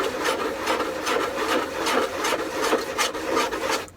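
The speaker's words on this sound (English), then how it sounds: "Since it's balsa, I figured this will be able to go pretty quick." Balsa wood being sanded with a sanding bar in steady back-and-forth rasping strokes, close and fairly loud, repeating about every half second with no voices.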